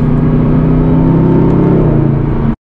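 Mercedes-AMG SLS Black Series engine held at high revs, a loud, steady droning roar close to the microphone that cuts off abruptly after about two and a half seconds.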